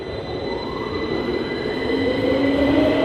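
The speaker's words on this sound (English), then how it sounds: "You'll see here the train just pulled out" A London Underground tube train pulls out of a busy station, its wheels squealing in thin high tones that rise over a steady rumbling roll, growing louder with no voices.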